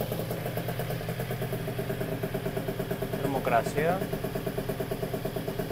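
A Piaggio Zip two-stroke scooter idles while warming up, a steady rattling putter close by with a brief rise partway through, as someone speaks over it.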